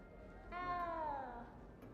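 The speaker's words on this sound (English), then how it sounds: "this cat won't shut the hell up" A house cat lets out a single drawn-out meow, clear and moderately close against a quiet room background.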